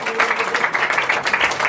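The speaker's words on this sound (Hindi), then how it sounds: "ताली बजाओ इसके लिए।" A congregation at a church gathering claps together, a short burst of brisk, close applause under a murmur of voices.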